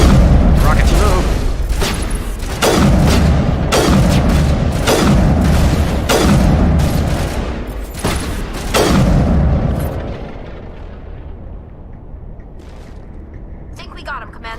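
Rocket explosions in the video game Mass Effect, a rapid series of loud, close booms roughly every second that then fade into a rumbling tail, with voices talking over the blasts.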